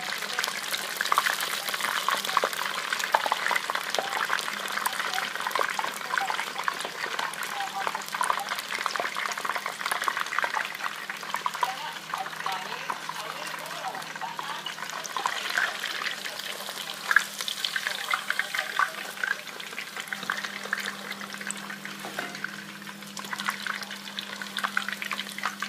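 Haddock and chips fry in hot oil with a continuous, even bubbling sizzle that holds at moderate loudness for the whole stretch, with no talking.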